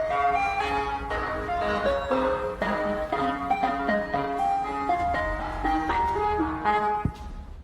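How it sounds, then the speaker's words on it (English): An ice cream truck plays the Yankee Doodle jingle at night as it turns on a dark road, a steady, tinny electronic melody heard continuously at moderate distance. "what looks like an ice cream truck making a U-turn on her road in the darkness"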